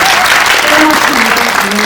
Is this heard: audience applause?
yes